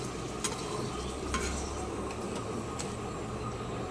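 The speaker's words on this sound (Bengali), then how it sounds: "এই তেলের মধ্যেই আমি ডালের বড়িগুলো ভেজে নিচ্ছি।" Lentil dumplings fry in oil with a faint, steady sizzle and a few light clicks scattered through it, no voices.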